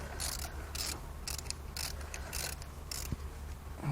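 A bent bolt is turned out of a blown 6.7 Cummins turbo diesel engine during a teardown, giving quiet, close ratcheting clicks in short repeated bursts.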